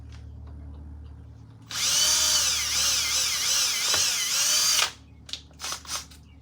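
A power drill bores through metal clamped in a vise, stepping up to a 5/16 bit for a three-panel mirror mount on a Kubota L4701 tractor: a loud, steady whine for about three seconds, then a few short bursts.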